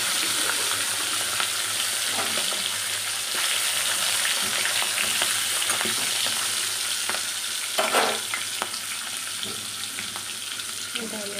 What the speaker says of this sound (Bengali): এই তেল গরম হয়ে গেছে, এবারে আমি ছেড়ে দিলাম